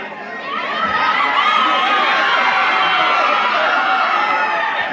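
A large crowd shouts and cheers at a film success celebration for the movie Chennai Love Story in Srikakulam. The mass of voices is loud, dense and continuous from start to finish.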